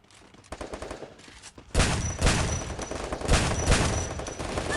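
Rapid automatic gunfire bursts in the mobile shooter Free Fire, a few scattered shots at first and then sustained loud machine-gun volleys, with no talk over them.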